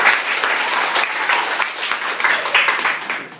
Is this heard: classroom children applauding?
yes